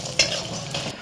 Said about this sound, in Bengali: বড়িটা একটু লাল লাল করে ভাজবো